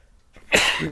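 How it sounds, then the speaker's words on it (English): A single sharp sneeze, close and abrupt, after a brief moment of near silence. "Oh, sneeze."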